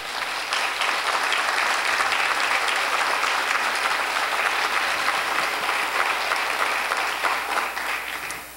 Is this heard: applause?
yes